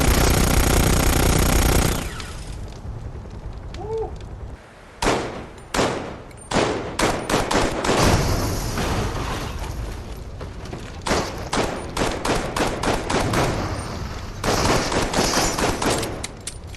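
Gunfire from a PS VR2 shooting game rings out in rapid bursts of sharp, loud shots with brief gaps between volleys, close and punchy, followed by a long stretch of repeated firing.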